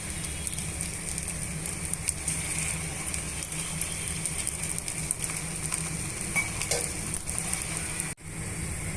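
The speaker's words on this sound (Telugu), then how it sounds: "ఇప్పుడు ఇందులోనే బీట్ చేసి పెట్టుకున్న ఉల్లిపాయలు ఎత్తిని ఇలా వేసేసుకోవాలి" Steady sizzle of an egg dosa frying on a hot pan as chopped onions go in, a dense continuous crackle throughout with a brief dip near the end, no talking.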